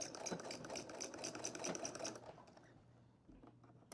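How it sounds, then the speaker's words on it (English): A sewing machine stitches rapidly and steadily at close range, running forward then reverse for about two seconds before stopping, leaving quiet handling sounds. "You're going to stitch forward and reverse."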